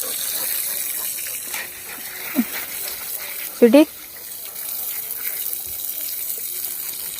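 Water spraying steadily onto dogs in a muddy yard, a continuous hiss running throughout, with a couple of brief splashy bursts and people talking over it.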